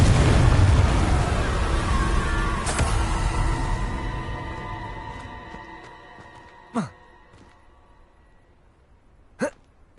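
The Confringo fire spell in Hogwarts Legacy bursts with a loud, close blast that decays over a few seconds, followed by two short, sharp explosive pops several seconds apart.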